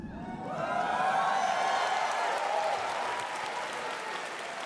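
An audience at the Bethesda E3 2019 conference bursts into applause, steady dense clapping swelling quickly and holding at full strength, with faint cheering mixed in.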